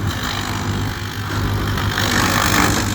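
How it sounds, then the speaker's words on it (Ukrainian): A tractor-driven wood chipper turning leftover small branches into chips in a field, a loud steady engine hum with a low droning tone and grinding noise that swells slightly toward the end. "А оця мілочі, яка залишилась, зараз переробляємо на щепу."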